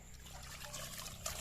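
Water trickles quietly while creek crabs are washed, a faint, steady running dribble close by with a slightly brighter splash at the end.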